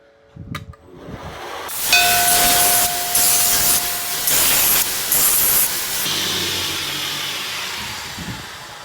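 Water sprayed onto a hot axe head between belt-grinder sharpening passes, a loud hissing spray in several pulsed bursts and then fading steam, after a few brief knocks.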